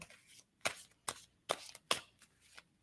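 Tarot cards are shuffled in a series of about six soft riffling bursts at an irregular pace, close and fairly quiet with no talking.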